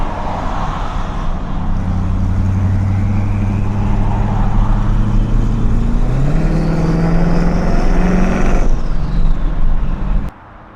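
A twin-turbo Ford Mustang accelerates hard up a highway on-ramp, its loud engine tone climbing steadily in pitch, dipping at a gear change and climbing again before suddenly dropping away.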